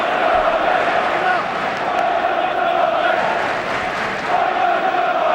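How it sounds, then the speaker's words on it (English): Football crowd at Chelsea's stadium during an FA Cup quarter-final against Tottenham, a steady loud roar of chanting and cheering sustained throughout, with a faint voice under it. "Crowd really finding their voice now."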